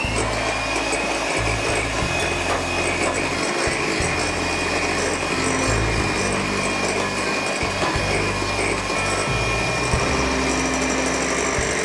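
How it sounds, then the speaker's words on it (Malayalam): An electric beater whips eggs as powdered sugar is added bit by bit for a caramel cheesecake, giving a continuous high mechanical whir with rattling, gear-like texture, steady and close throughout. "ബീറ്റിങ് കണ്ടിന്യൂ ചെയ്തുകൊണ്ടിരിക്കും, നിർത്തിയിട്ടില്ല."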